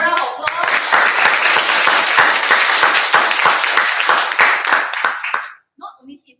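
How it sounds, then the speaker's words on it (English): An audience at a Toastmasters club meeting gives a burst of loud, dense applause that lasts about five seconds, then thins to a few scattered claps. "Let's give him another round of applause."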